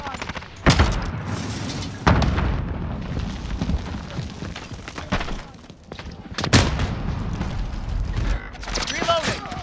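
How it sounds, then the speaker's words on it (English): Stun grenade and gunfire in Call of Duty Modern Warfare 2019 during a firefight at Khandor Hideout: loud close shots and booming blasts in a few heavy bursts, with scattered fire and voices between them. "Throwing stun!"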